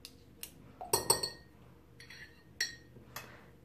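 Metal spoon scraping thick strained honey from a jar, a few sharp clinks and scrapes spaced irregularly, close and fairly quiet with no talk.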